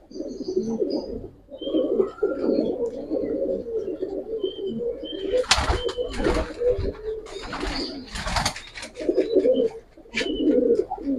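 Several Giribaj pigeons coo continuously in low, throaty rolls nearby in a loft, broken by a few sharp clattering knocks and flutters.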